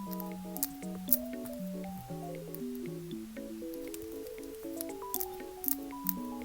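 Light, rapid plastic clicking and tapping of acrylic nails while crocheting, fairly faint, over a soft melodic tune playing steadily in the background.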